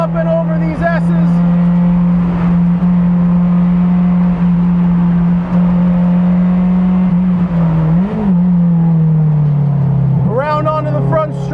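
A 2017 Mazda MX5 Cup race car on track, its engine holding a loud steady drone from inside the cabin, dipping briefly on a downshift, while a driver talks over it throughout.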